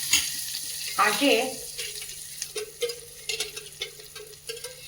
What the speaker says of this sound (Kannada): 1 ಸ್ಪೂನ್ ಬೆಣ್ಣೆ ಹಾಕ್ತಾ ಇದ್ದೀನಿ